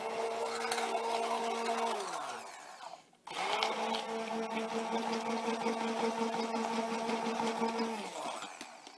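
A kitchen blender briefly whizzes a mixture with a steady whirring motor hum. It winds down, cuts out for a moment, then spins back up and runs evenly before trailing off.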